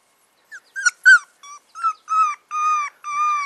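An American Eskimo dog puppy whimpers close by in a series of high, thin whines. Short yips build into three longer, drawn-out cries, with no voices over them.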